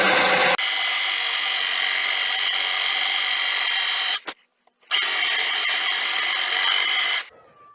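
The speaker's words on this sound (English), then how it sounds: "Watch for the tip of the drill bit coming through the other side" A drill bit bores through a beech and bubinga wood blank for a yarn bowl, a loud steady whining drone running for several seconds, a brief pause, then a second burst before it stops.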